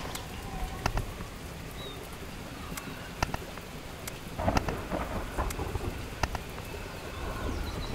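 Steady rain and rolling thunder fill a stormy scene in the video game Lost in Blindness, with several sharp cracks and rumbles over a constant downpour, at moderate volume with no voices.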